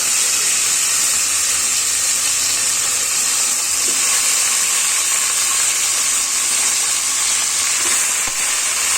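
Spinach leaves go into a pan of spluttering cumin and mustard seeds, giving a loud, dense, continuous sizzle and hiss that holds steady throughout with no voices.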